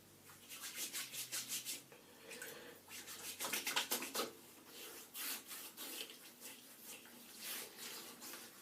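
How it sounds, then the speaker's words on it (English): Menthol shaving oil being rubbed onto a face by hand: soft, close, rhythmic swishing strokes in uneven bursts with brief pauses, fairly quiet and without talk. "Now I'm going to just put some New Age menthol shaving oil on my face."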